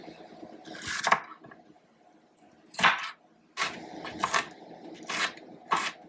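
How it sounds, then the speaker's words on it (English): Several irregular knife strokes chop shallots and bell pepper on a cutting board, close up and fairly quiet, with short pauses between cuts. "I'm gonna cut up 2 shallots"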